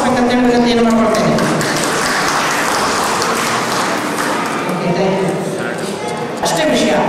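Audience clapping at a cooperative society general meeting of former students and staff in Kanakapura, a dense, loud, sustained burst of applause filling the room for several seconds.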